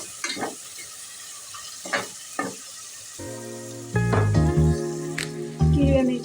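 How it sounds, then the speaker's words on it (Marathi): Chopped tomatoes stirred into a pan of frying chicken biryani masala, with a few scraping stirs, then a steady loud sizzle that swells as the tomatoes hit the hot oil, no talking. "आता मी टमाटे घालून घेते बारीक चिरलेले, हे पण मिक्स करून घेते"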